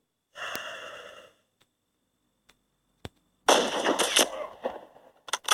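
Gunshots fired in a video game: a few sharp, isolated cracks separated by quiet gaps, along with bursts of breathy, noisy game sound.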